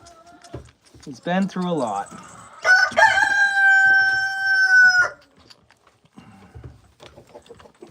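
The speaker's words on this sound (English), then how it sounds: "Whew, the roosters are so loud." A rooster lets out a loud, sustained crow nearby, preceded by a shorter call and followed by scattered softer farmyard noises.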